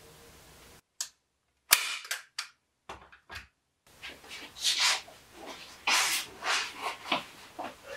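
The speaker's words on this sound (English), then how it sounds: "Let me just put my first staple to put it in place." A staple gun fires into canvas on a wooden stretcher frame, several sharp snapping clicks spread unevenly, near and crisp, followed by rustling and handling noises.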